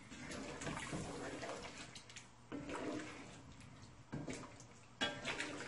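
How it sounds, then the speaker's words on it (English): Hot water pours steadily into a pot of potatoes in several bursts, a splashing, running stream with brief pauses between pours. "So let's go ahead and add a cup of hot water."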